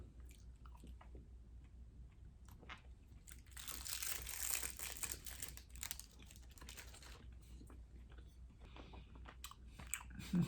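A double-wrapped caramel candy is unwrapped and chewed close up, with soft crinkling of the wrapper followed by quiet, sticky chewing and mouth sounds, faint and intermittent.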